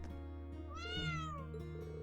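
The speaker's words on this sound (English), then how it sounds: "That would be Prime, a resident cat at the Heimdall Training Hall" A cat meows once in the Trails of Cold Steel IV video game, a resident cat at the Heimdall Training Hall, giving a clear rising-then-falling call in the middle over steady game music.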